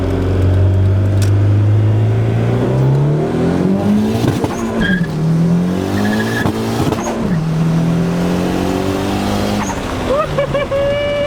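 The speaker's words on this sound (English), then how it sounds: "It's hard to do like a full throttle pull while making a turn." A turbocharged Honda Civic makes a full-throttle pull through a turn, its engine note climbing loudly with tire squeal and turbo whistle, heard from inside the car as voices talk over it.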